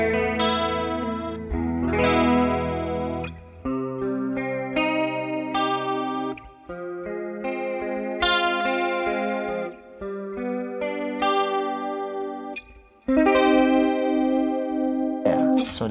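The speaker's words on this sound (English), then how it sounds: "So this is my chorus sound." Electric guitar run through a chorus effect with delay and plate reverb, playing shimmering chords and arpeggiated notes at moderate volume with brief gaps between phrases.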